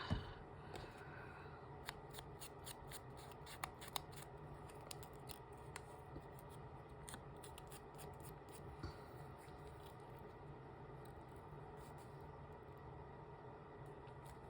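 Scissors trim paper for a decorated journal page in a quiet setting, making a string of faint, crisp snips and cuts at an irregular pace over a low background hum.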